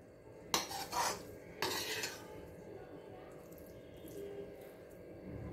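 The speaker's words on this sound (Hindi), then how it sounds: "अब हम इसको दूसरे बर्तन में निकाल लेंगे।" A spoon clanks and scrapes against a metal pot in two short bursts as cooked red amaranth sabzi is moved into another pot, followed by quiet kitchen background.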